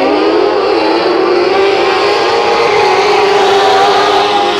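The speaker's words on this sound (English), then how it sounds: "we're going green flag racing" Dirt track race cars at full throttle under green flag, their engines merging into one loud, sustained high-pitched roar whose pitch slowly climbs and holds steady as the pack races past.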